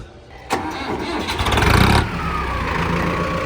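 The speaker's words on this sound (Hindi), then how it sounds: "ट्रैक्टर चालू हो गया।" A Mahindra Arjun NOVO 605 tractor engine cranks and fires up close, a sharp start followed by a loud surge that settles into a steady, rumbling diesel idle.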